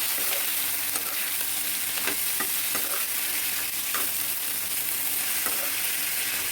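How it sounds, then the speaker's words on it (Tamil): Onions and snake gourd sauté in a pan with a loud, continuous sizzle, punctuated by frequent light clicks and scrapes of a stirring spoon, heard up close. "இப்போ பாருங்கள் வெங்காயம்லாம் நல்லா வதங்கிடுச்சு"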